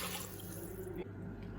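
Tap water runs steadily into a pot, four cups being filled as the base for a coconut milk ramen broth; a continuous close splashing stream with no talk over it.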